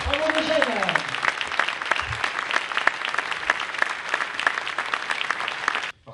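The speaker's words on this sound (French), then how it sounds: "Et si vous pouviez faire un tonnerre d'applaudissements" Sustained applause from a crowd at a congress in Fontvieille, France, steady and fairly close, continuing for several seconds before cutting off, with a voice briefly over the start.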